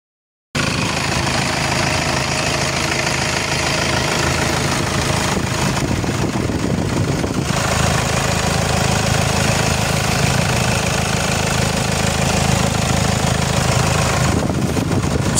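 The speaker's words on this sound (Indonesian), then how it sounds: "perhatikan suara mesinnya" A steady, continuous diesel idle from a 2013 Toyota Kijang Innova 2.5 G, low rumble with a rattly, knocking texture, running unbroken and close by with no talking.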